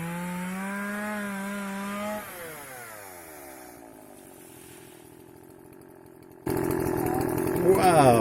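Chainsaw cutting invasive trees into firewood, the engine droning and shifting pitch as it bites into wood, then roaring loudly toward the end.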